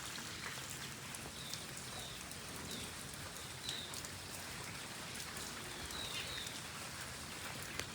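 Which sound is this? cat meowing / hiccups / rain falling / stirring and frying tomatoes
rain falling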